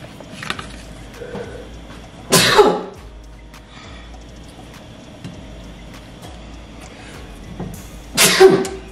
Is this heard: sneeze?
yes